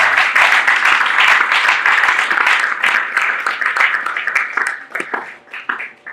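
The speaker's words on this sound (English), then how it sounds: "Ladies and gentlemen, another big round of applause for Mr." An audience at a motivational talk bursts into sustained, dense clapping that stays loud for several seconds, then thins into scattered claps as it fades.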